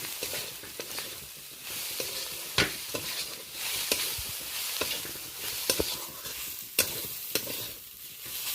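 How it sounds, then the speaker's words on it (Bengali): Banana flower mix with spices, kasuri methi and grated coconut is stirred in a pan, a soft sizzling hiss broken by repeated scraping strokes of the spoon at an uneven pace, close and fairly quiet. "সমস্ত মশলার সাথে কসৌরি মেথি আর নারকেল দিয়ে মোটামুটি ভালো করে বেশ কয়েকবার নেড়ে নিলাম।"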